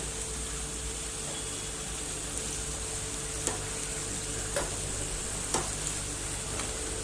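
Palak bonda deep-frying in hot oil over a medium flame, giving a steady, close sizzle with occasional faint pops and clicks, no voices.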